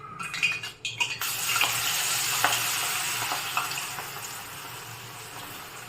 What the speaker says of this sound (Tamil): சிம்லேயே வச்சு நல்லா இந்த ஓசையெல்லாம் அடங்கணும், இந்த பபுள்ஸ்லாம் வராமல் இருக்கணும்.